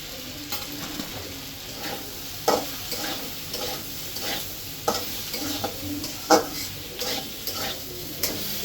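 Fish being stirred and sautéed with turmeric and chili powder in a pan, a continuous soft sizzle broken by repeated scraping strokes of a spatula, close and moderately quiet.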